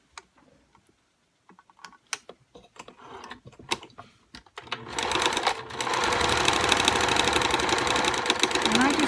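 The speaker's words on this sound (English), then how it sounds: "I can use the edge of my presser foot to sew that" A sewing machine stitches a 1/4 inch seam along the rounded edge of a fabric face mask, guided by the presser foot edge; a few scattered taps give way to a loud, steady, fast mechanical whir that runs continuously to the end.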